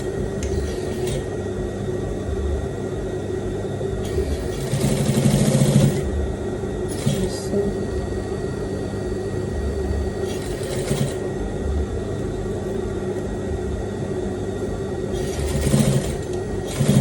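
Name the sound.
sewing machine stitching a welt pocket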